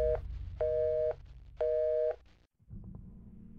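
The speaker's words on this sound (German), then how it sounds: "Das Telefon scheint nicht richtig zu funktionieren. Es zeigt nur das Besetzzeichen, egal was ich drücke." Telephone busy signal in the video game Taut: two repeating beeps of a steady tone with even gaps, clear and alone, followed by low background hum.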